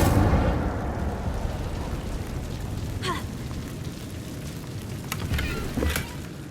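A roaring, crackling burst of magical fire from an Incendio spell in the Hogwarts Legacy video game, loud and sustained across the clip with sharper flares near the middle and end.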